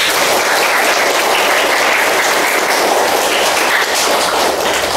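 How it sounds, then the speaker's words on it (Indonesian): Loud, dense applause from a crowd, continuous clapping that holds steady for several seconds with no voices over it. "kasih tepuk tangan"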